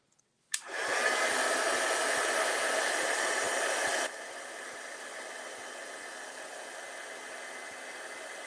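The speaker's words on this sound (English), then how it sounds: "And then we're going to heat emboss it. So this is going to be a little bit loud." A heat embossing tool switches on and blows hot air steadily over a card, a close, even whooshing hiss that drops to a slightly lower, quieter level partway through and keeps going. No one speaks.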